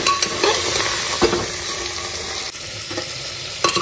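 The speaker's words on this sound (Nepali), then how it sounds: "सबै मासु एड गरेपछि मासुलाई पनि मजाले फ्राई गर्छु" Mutton pieces fry in a hot pan for a mutton biryani, giving a steady close sizzle broken by several scraping stirs of a spoon against the pan.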